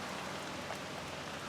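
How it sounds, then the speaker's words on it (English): Rain falling outdoors on the Niagara River during a carp fishing trip, a faint continuous hiss of drops without distinct patters and no talk. "This rain's been falling for the last 2 minutes from the clouds or something."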